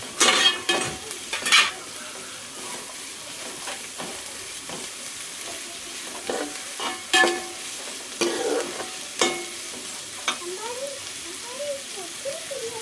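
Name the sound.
onions frying in a pan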